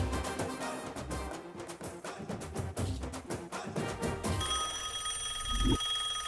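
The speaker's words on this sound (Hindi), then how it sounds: "भाई का फोन आ गया, चलो चलते।" A telephone bell rings repeatedly in a steady, insistent pattern over background music, near and loud, then the ringing stops and a louder thump follows near the end.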